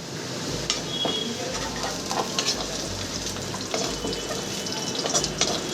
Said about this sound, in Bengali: আর একটু ভেজে নেবো আলুটা